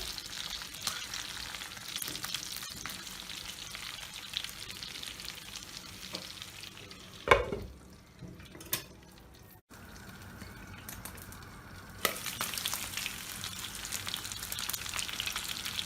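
Chicken pieces fry in a pan with a steady, quiet sizzle, broken by a few louder clatters and stirring sounds partway through, then the soft crackle carries on, with no talk.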